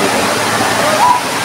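Spring water pouring at an outdoor resort pool, a loud, steady rushing splash heard up close and unbroken throughout.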